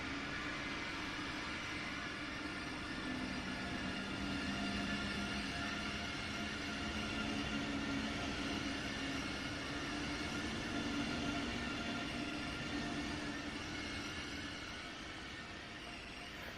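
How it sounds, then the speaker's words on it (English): An ICE high-speed train in the Train Sim World 4 game near München Hbf, giving a steady, dense rolling rumble and hiss from the wheels and traction that holds at constant loudness throughout. "And this is the ice train"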